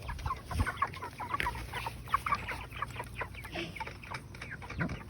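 A flock of chickens clucks continuously in overlapping bursts, close and busy, with a steady background hum.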